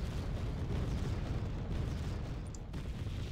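Bombing explosions in a strategy video game replay, a continuous deep rumbling roar of blasts that stays loud and dense throughout with no clear gaps.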